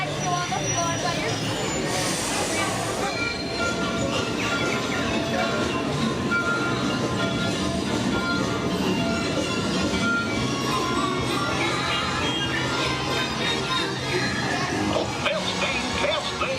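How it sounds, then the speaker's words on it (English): The Wildlife Express train at Disney World's Animal Kingdom rumbles steadily, with a continuous low rolling drone, faint rattles and occasional squeals, while a voice talks over it in places. "Everyone watch your step getting into the train"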